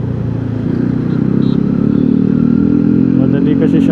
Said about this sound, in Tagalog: Ingay naman ang motor na to.